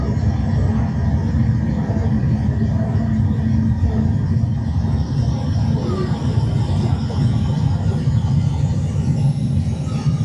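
A steady, dense rumble of more than 1,000 miniature model trains running on tracks at Miniatur Wunderland in Hamburg, continuous and loud throughout with a busy mechanical hum and no clear voices.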